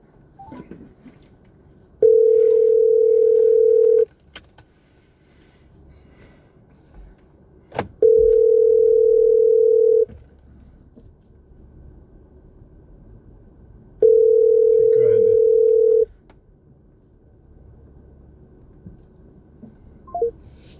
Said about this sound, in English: Let's see if Nicole answered the phone.